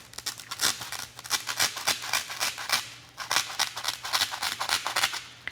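A plastic knife sawing through a styrofoam board, a rapid series of close, scratchy squeaking strokes in steady rhythm with a brief pause midway, heard alone without talk.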